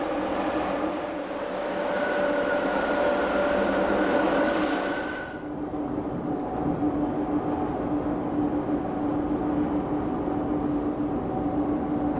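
A train running on a scenic railway climbing through the Alps over spiral tunnels and bridges, a steady rumbling roll with tonal wheel hum; a bright high whine fades out about halfway through.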